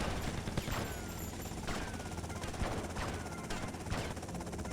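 Enemy automatic gunfire in GTA Vice City, rapid bursts of shots rattling continuously over a dense game soundscape, loud and sustained throughout.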